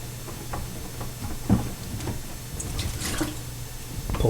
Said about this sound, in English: We're going to let the water run out first because there's going to be a little bit of water.